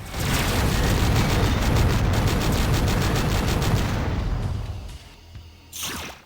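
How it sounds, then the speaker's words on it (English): Enemy weapons fire and explosions roar in Descent Vertigo, a loud sustained blast of rapid bursts and booms that fades, then one last sharp burst near the end. "got enemies to both sides who'll hope to catch you in the crossfire"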